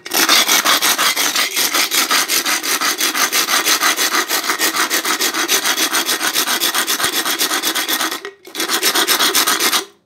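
Steady rhythmic scraping of an aluminium can sanded against a concrete floor, loud and close, continuing with a brief pause near the end.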